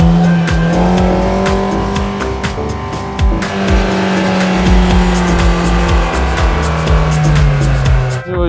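An off-road car in low gear on all-terrain tyres, climbing a steep, frightening hill, its engine droning loud and close throughout with strained revving and some tyre and gravel noise.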